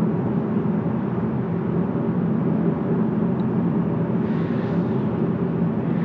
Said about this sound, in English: The road noise is not bad, especially for a vehicle this low to the ground.